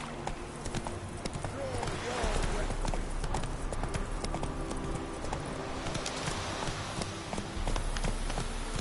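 Horse hooves clip-clop steadily on the ground as Roach the horse trots along, a continuous rhythmic clatter with a voice urging the horse on over it.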